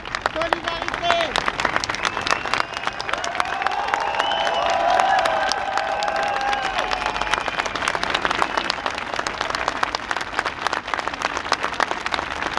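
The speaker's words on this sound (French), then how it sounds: "on vous propose 1 minute d'applaudissements pour vraiment les soutenir" A crowd gathered in support of LGBT people applauds steadily for a long stretch, dense clapping with scattered cheers and shouts.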